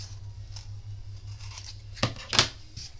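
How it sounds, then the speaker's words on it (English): Scissors trimming folded paper for a Valentine's craft, a few soft snips followed by two sharp, close cuts near the end over faint background hum. "And then I'm just going to trim that one off."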